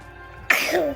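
A single sudden sneeze-like burst indoors, sharp onset with a breathy spray trailing off over half a second, fairly loud and close, preceded by quiet room tone.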